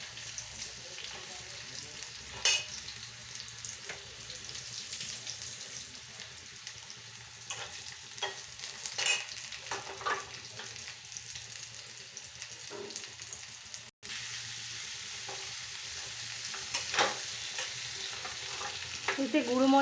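Raw green banana pieces frying in a pan while being stirred, a soft continuous sizzle broken by scattered scraping strokes of the spoon, fairly quiet and close, no speech.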